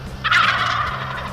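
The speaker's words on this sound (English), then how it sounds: "All longbeards, spitting and drumming, gobbling right in our face." Wild longbeard turkeys gobble loudly at very close range during a hunt, one rattling call that rises sharply and then trails off, heard on its own without talk.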